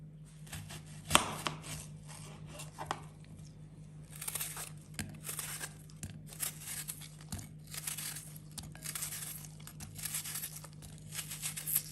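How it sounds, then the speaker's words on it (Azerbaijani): Two onions are sliced into rings with a knife, giving a dense run of crisp, crunchy cuts and crinkly tearing sounds, close and fairly steady, with a sharper knock near the start. "İndi isə soğanlarımızı dilim-dilim doğrayırıq."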